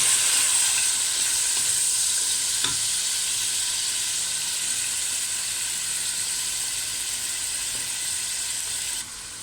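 Food frying in a pan, a loud steady hissing sizzle that carries on without a break and drops slightly at the very end.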